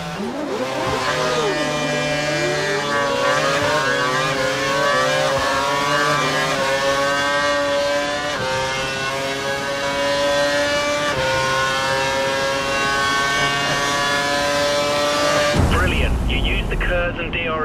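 F1 race car engine from the F1 2012 video game, a loud high-pitched screaming whine that climbs through the gears as the car chases and overtakes, close and continuous, with a voice speaking over it.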